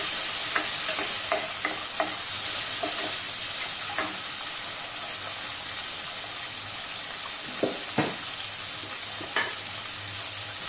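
Carrots and mixed vegetables fry in a pan, a steady close hiss with repeated sharp clicks and scrapes of a spatula stirring against the metal, and no voices.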